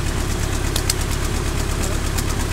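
A Renault Twingo 1 engine runs rough and misfires after coil, spark plug and lead work, giving a loud, close, uneven knocking idle that throbs steadily throughout.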